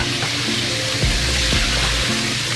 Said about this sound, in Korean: 170도 기름에 통째로 넣고 2분 정도 튀기다 보면 가지가 부드럽게 휘는 타이밍이 오거든요